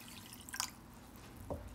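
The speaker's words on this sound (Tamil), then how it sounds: "ஸோ அதனால் இப்போ நான் 2வது தடவையும் நல்லா கலைஞ்சிக்கிறேன்." Rice being rinsed in water for sweet pongal, a second wash in a South Indian kitchen: faint, sparse drips and small splashes over a low background, with a brief cluster of sounds followed by a later single splash.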